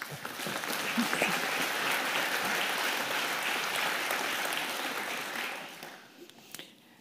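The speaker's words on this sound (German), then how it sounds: "herzlichen Applaus für Astrid Bertschi" An audience at a talk on cantonal ICT procurement applauds warmly for a speaker, the clapping swelling into a steady, full roar and then fading to a few last scattered claps.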